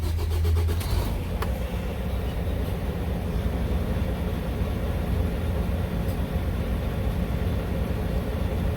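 A semi truck's engine cranks and catches during a brief start, then settles into a loud, steady low idle rumble that carries on close by.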